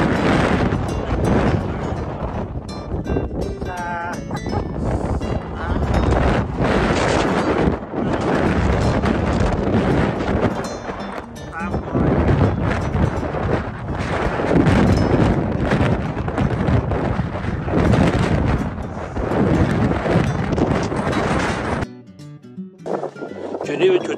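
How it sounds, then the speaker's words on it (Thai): Strong wind blasting a microphone at a Swiss mountain viewpoint, loud roaring gusts that continue almost unbroken for over twenty seconds before a brief drop near the end. "ลองให้ท่านได้ยินเสียงลม"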